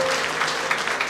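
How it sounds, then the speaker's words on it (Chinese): A church congregation claps together during a Sunday service, a dense, even burst of applause that fills the whole moment. "我们再次拍手来谢谢他们"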